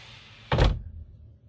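A motorhome door, on a semi-integrated Carthago Chic C-Line, swings shut with a single loud thump and brief rattle after quiet room tone, then a short fading tail.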